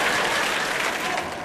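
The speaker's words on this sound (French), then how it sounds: "Vous entendez les gens applaudir?" A backstage crowd applauding, dense and steady clapping that fills the space with no pauses.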